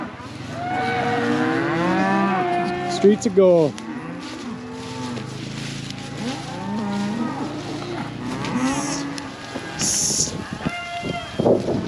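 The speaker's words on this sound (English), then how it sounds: "Silly cows." Cattle moo repeatedly and loudly, near and far, as the herd is moved along a 15-mile drive through the Black Hills, with people talking and calling to the animals over them.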